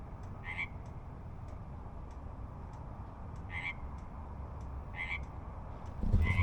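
A toad croaks outside in repeated bursts, about four calls spaced a second or more apart, moderately distant over a steady low background rumble, with no voices.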